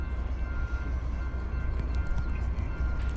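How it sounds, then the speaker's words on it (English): A CSX M406 ethanol freight train with engine 275 rolls past on track 2 eastbound in South Plainfield, New Jersey, giving a steady, loud low rumble with faint metallic squeals and no talking. "Third train of the day in like 45 minutes."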